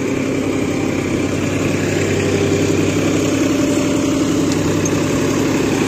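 A tractor engine runs steadily while powering a super seeder in a farm field, a loud, continuous droning rumble with no breaks and no voices.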